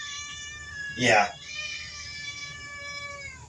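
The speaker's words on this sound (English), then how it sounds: "I have a very vocal cat. You might hear him in the background." A loud, drawn-out cat meow rings out clearly over a steady background hum, with a brief spoken word nearby.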